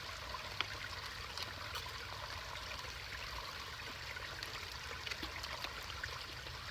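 Water streams steadily through a screw-on water filter, a continuous close trickling rush with faint splashy flecks, unbroken for the whole stretch and with no voices.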